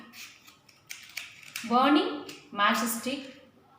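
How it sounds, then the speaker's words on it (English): Paper being torn by hand in two long ripping strokes during a classroom-style demonstration of irreversible change, close and fairly loud, with a few small handling noises before it. "another example, tearing paper"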